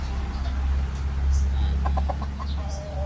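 Chickens on a Filipino gamefowl farm, being handled and shown off, give a short run of soft, evenly spaced clucks in the middle, over a steady low rumble of background noise.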